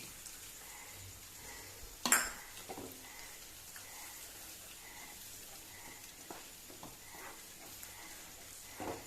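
Water poured into a hot pan while mango shira cooks gives one sudden loud hiss that fades into a soft, faint simmer with occasional light clinks, and no voices are heard.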